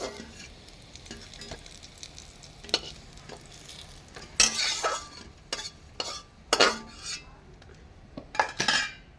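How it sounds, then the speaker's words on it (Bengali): Pieces of lentil cake (dhoka) fry in a pan with a low sizzle, punctuated by sharp clinks and scrapes of a utensil against the pan, close with no talking. "বাকি বাকি যে আছে ধোকাগুলো আমি ভেজে নিচ্ছি"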